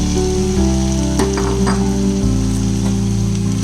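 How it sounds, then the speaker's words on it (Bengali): Spice paste sizzles steadily in a hot pan while being fried down for taro greens cooked with hilsa fish head, a close, continuous crackle with a loud bed of frying noise throughout. "মশলাটাকে আরেকটু কষিয়ে নিলাম"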